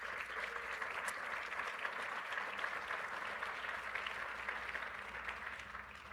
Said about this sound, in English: So a round of applause to the Investment Council, everyone who put that together, all the investors who made this happen.